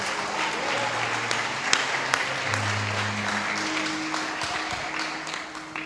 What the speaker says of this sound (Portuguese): Não, aplauda Jesus, ele merece.